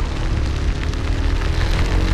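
Heavy rain pours down during a night motorcycle ride on the road to Camalig, Albay, a loud and steady broadband wash of water and road noise that continues unbroken with no talking.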